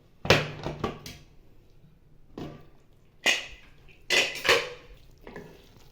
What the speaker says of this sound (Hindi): ये मैंने कुकर बिल्कुल बंद कर लिया था, ठंडा होने के बाद मैं खोल रही हूँ।